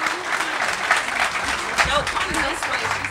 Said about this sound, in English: Clap it up for him one more time.